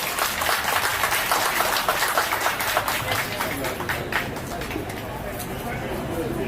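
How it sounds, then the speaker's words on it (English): An audience applauds chiefs at a gathering, with clapping up front that thins and fades over several seconds amid background chatter and murmuring voices. "Please help me give them a round of applause."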